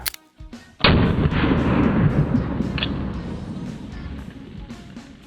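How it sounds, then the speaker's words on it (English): A single very loud, booming shot from a large-caliber Desert Eagle handgun firing .50 Action Express or .44 Magnum rounds, a sharp crack followed by a long rumbling echo that slowly fades, with no talking. "then we're gonna do 2 for the .44 Magnum, and then 2 for the .50 Fat Boy Action Express"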